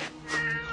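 A cat lets out one drawn-out, wavering meow up close, loud and alone, in an animated film scene.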